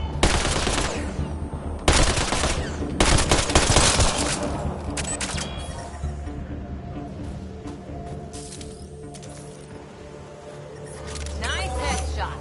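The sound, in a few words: gunfire in Mass Effect Andromeda video game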